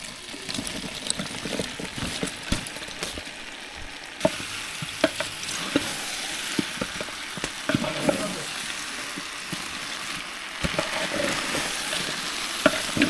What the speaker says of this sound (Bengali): আমি এই সব পদের সবজিগুলি এখন ভেজে দিচ্ছি হাঁড়িতে